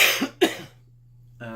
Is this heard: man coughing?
yes